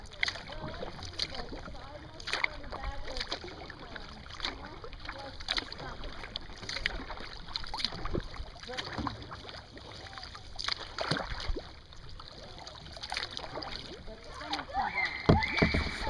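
Paddling a skin-on-frame kayak on a quiet offshoot of the Huron River, with soft rhythmic paddle splashes and drips repeating close by, while people talk over the water sounds.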